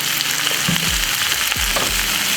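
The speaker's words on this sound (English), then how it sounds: "Stir in my mushrooms a little bit." Mushrooms sizzle in a pan with a dense, steady hiss, broken by a few low thumps and scrapes as they are stirred.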